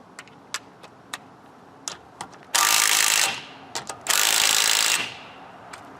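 A Ryobi One+ 18V cordless 1/2-inch impact driver hammering a lug nut tight, two loud sustained bursts of rapid impacting, each close to a second long, with faint clicks and handling knocks between them.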